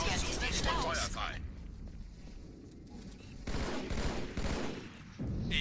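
Gunfire from ship cannons in the Halo 2 video game, a loud sustained barrage of blasts that eases off, then swells again toward the end, with game dialogue and effects mixed in.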